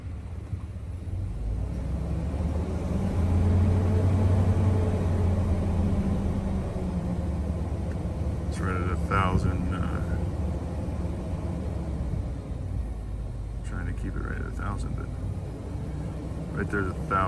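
A 2011 Ford F250 Super Duty XLT pickup truck engine idles with a steady, close, low rumble that holds evenly throughout, with brief muffled voices in the background.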